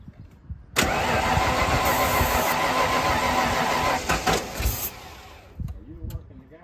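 A 1995 Ford Bronco, parked for years and running on starting fluid, cranks briefly then catches and runs loudly for several seconds before stumbling and dying, with voices faintly heard around it.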